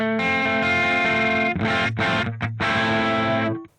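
Electric guitar played through an IK Multimedia Tonex pedal with a downloaded community amp tone rings out loud and distorted, sustained chords that briefly break off and restart before a final cutoff.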